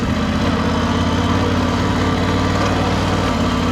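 A BMW F900 GS motorcycle engine idles close by with a low, even rumble that holds unchanged throughout.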